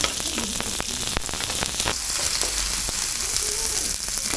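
Garlic, ginger and onion sautéing in a pot, a steady hissing fry close by with occasional sharp pops and crackles, no voices over it.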